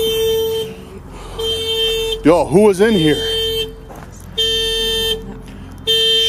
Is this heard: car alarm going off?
yes